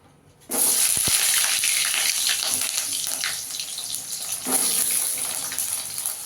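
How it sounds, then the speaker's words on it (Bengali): Pointed gourd fries in hot oil left over from frying fritters, a loud sizzling burst as the pieces go in that keeps on crackling steadily nearby and swells again later, with no talking. "এবার এই তেলে আমি পটলটা ভেজে নেব আগে"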